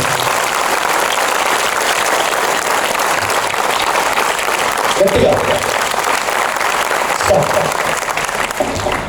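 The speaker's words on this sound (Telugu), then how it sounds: "నచ్చితే మీ సార్కి గట్టిగా చప్పట్లు కొట్టాల్సింది" Students at an educational institution give a sustained burst of loud, dense applause that fills the whole stretch, with a voice speaking over it.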